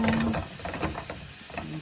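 Liver with ginger cooking in a pan for menudo, giving a steady close sizzle and hiss with soft stirring scrapes and clinks throughout, no voices.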